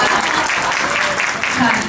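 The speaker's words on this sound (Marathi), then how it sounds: "जोरदार टाळ्या वाजवल्या परत एकदा" Guests clap together at a baby shower celebration, a dense burst of close applause lasting throughout, with voices mixed in among the crowd.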